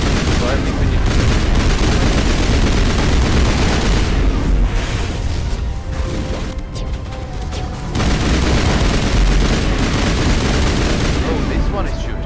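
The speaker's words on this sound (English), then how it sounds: "this one is shooting now" Continuous gunfire in the video game Mass Effect 1 Legendary Edition, loud and dense bursts of shots filling most of the stretch with a brief lull midway, mixed with game effects.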